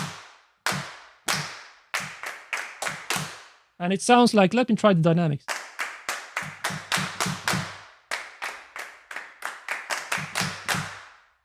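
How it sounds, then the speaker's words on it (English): Sampled claps from the Medusa Drums ensemble drum library play as sharp, close, dry hits in quick uneven runs at varying loudness, with someone talking briefly between them. "And then you get claps, 2 variations."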